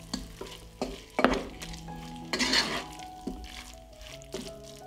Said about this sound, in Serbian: Vraćam piletinu i sve ću promešati.